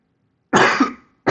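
Two harsh coughs close to the mic, a longer burst followed by a brief second one, with silence between.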